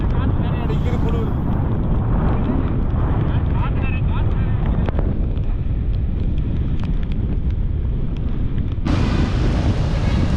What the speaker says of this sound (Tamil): மழையே ஓடி போயிட்டு காற்று நிறைய அடிக்கிற குளிர்.